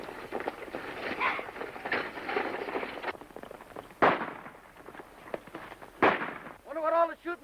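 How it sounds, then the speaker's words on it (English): During a stagecoach holdup in a 1935 John Wayne Western, sharp gunshots crack out, two loud shots spaced a couple of seconds apart over a busy rattling background. "Wonder what all the shooting's about."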